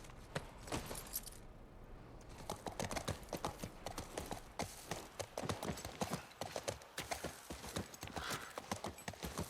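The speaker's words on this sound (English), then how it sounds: "Alright, let's get on the horse." Horse hooves clip-clop steadily on the ground in The Last of Us while the characters ride, a rhythmic, fairly close trot that runs throughout.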